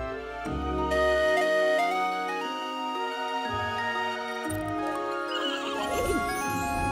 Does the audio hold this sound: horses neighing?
yes